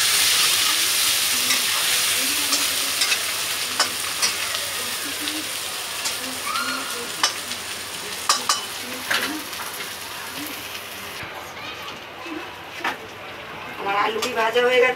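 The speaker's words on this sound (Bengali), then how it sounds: "এবার আমি আলু ভেজে নেব।" Potatoes fry in hot oil in a pan with a steady sizzle and occasional stirring clinks, while someone talks intermittently over the cooking.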